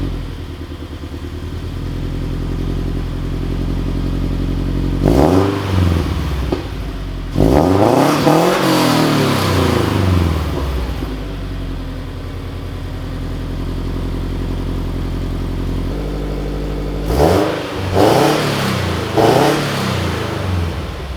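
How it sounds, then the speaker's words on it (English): A Subaru BRZ / Toyota FRS fitted with new JDL headers idles loudly, then revs sharply three times, each blip rising and falling before settling back to a steady, aggressive idle, with no talking. "Let's hear how the car sounds"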